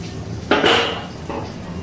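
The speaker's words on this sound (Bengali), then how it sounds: "5 মিনিট পর ঢাকনাটা তুলে নিচ্ছি।" A metal lid clatters as it is lifted off a pot of boiling tomatoes on a medium gas flame, one sharp clank followed by a brief rattle and a softer second knock.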